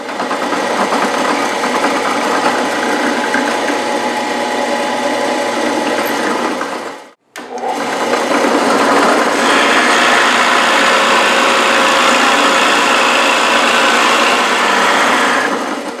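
A power drill boring counterbores and through-holes in wooden side supports for an extending table, a loud steady high-pitched whine running continuously with one brief stop midway before resuming.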